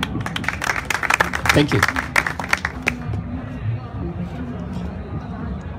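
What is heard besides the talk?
applause for a speaker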